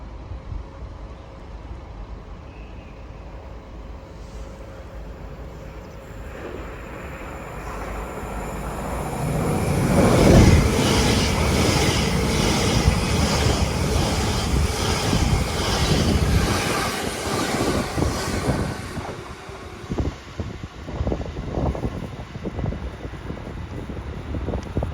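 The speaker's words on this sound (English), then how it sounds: "The train now approaching platform 3 does not stop here." A non-stopping train passes platform 3 at Meridian Water station on the Greater Anglia line. A distant approach swells into a loud, roaring pass-by around the middle, then fades into rattling clatter.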